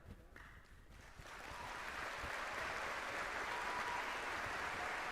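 Audience applause after an RFK Jr. speech, starting as scattered hesitant claps and building into a steady, full round of clapping from a large crowd heard at a distance.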